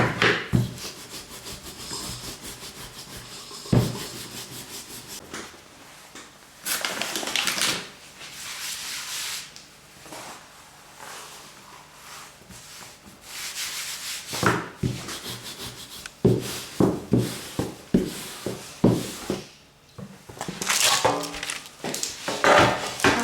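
A rolling pin works cold, stiff dough for a honey cake with prune filling, giving loud, close rubbing and scraping strokes in uneven bursts, with some knocks and short pauses.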